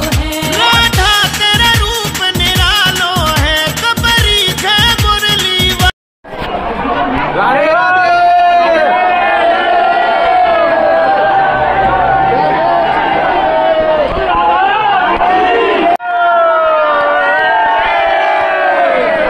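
A dense, packed Holi crowd at the Radha Rani temple entrance in Barsana roars with loud, continuous chatter and shouting, close and overwhelming, after a few opening seconds of rhythmic festival music with drums.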